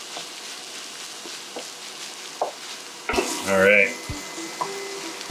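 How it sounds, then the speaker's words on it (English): Beef browns in a pan for a Jamaican patty filling, a soft continuous sizzle with occasional stirring taps, and a brief spoken phrase midway under a louder burst of clatter. "just cook this beef enough so that it starts to brown"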